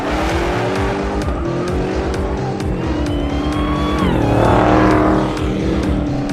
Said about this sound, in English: I grabbed the Demon from Colin and took it out on the track with one thing on my mind. Can it drift? Oh yes, it can drift.